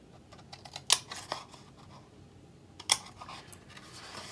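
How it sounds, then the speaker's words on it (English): Scissors cut small notches into paper on both sides of a mini bottle gift box, giving two sharp, close snips about two seconds apart with faint handling rustle between them. "with your scissors, just notch out that part on both sides."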